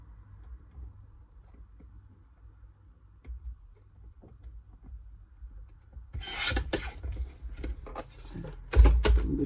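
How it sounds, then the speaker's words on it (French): Surplus card paper for a Christmas card is cut, faint ticking and handling sounds giving way to close, rasping cuts and rustles in the last few seconds. "Et là, je découpe mon surplus."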